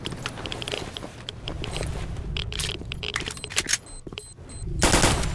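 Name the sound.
Uzi submachine gun firing in the video game STALKER: Shadow of Chernobyl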